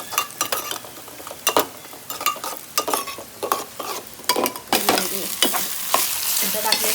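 Cashews and almonds fry in ghee in a pan while being stirred, a close sizzle broken by repeated scraping strokes and clinks of a spoon against metal, with no talk.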